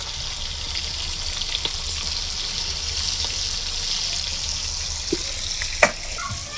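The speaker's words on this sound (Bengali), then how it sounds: "এই যে চিকেনটাকে এখন ভাজি করে নিতেছে।" Chicken frying in a pan gives a steady, even sizzle throughout, with a few faint clinks and taps of utensils now and then.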